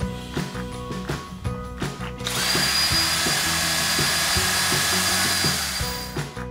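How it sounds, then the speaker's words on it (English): A power drill with an 8-inch bit whirs steadily, then bites into a wooden window frame with a loud, grinding bore that continues to the end, close up. "Drill the hole with an 8-inch bit."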